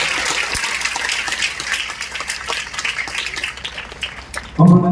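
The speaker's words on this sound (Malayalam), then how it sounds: "ഒരു നല്ല കയ്യടി കാസർഗോഡിൽ നിന്ന് പ്രതീക്ഷിക്കുന്നു." An auditorium audience claps in a dense, continuous burst of applause that fades slightly, then cuts to a louder, different sound at the very end.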